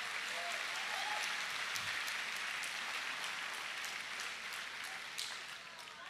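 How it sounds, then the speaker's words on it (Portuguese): Sustained applause from a church congregation, a steady dense wash of clapping that stays loud through the whole stretch and eases only slightly near the end. "Ajuda lá, vamos aplaudir, vamos"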